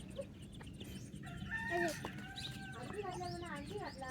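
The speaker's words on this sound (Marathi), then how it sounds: "सकाळी पिलकरीन कोंबडी आहे" Hens cluck and a rooster-like call rises over steady background voices and farmyard chatter in a village on a morning, fairly close and continuous.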